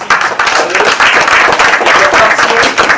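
Large audience of about 850 people applauding the actors after a two-hour Waterloo show, loud continuous clapping with sharp individual claps up close.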